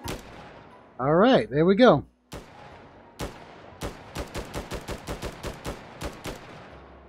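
A semi-automatic gun fires in the VR shooter Hot Dogs, Horseshoes & Hand Grenades: two spaced shots, then a steady string of about a dozen sharp, evenly paced reports. A short burst of speech comes just before.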